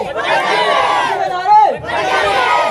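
A crowd at a Pakistani Punjabi election gathering chants slogans in loud, continuous unison, voices overlapping and swelling with a brief rising shout near the middle.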